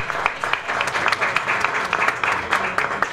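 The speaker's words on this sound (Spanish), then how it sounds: "despidamos con un fuerte aplauso al grupo Selección Cabrestero y a Julito Rebolledo." An audience applauds a dance group at a public signing event in Colombia, a steady, fairly close wash of clapping with crisp individual claps standing out.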